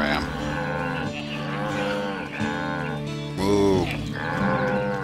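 Cows moo in a string of long, loud, overlapping calls on a farm in the video game Black Desert, with a brief voiced exclamation in the middle.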